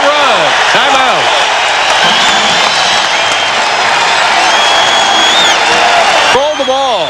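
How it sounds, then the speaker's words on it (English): A packed basketball arena crowd roars loudly for the New York Knicks during a 1994 playoff game against the Nets, a continuous dense wall of cheering and whooping with an announcer's voice over it. "The crowd is supposed to be for New Jersey, but it is loud for the Knicks on a 7-0 run."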